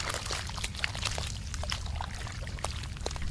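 Irrigation water runs steadily along furrows between raised planting beds in a farm field, a constant close trickling and gurgling wash with no voices.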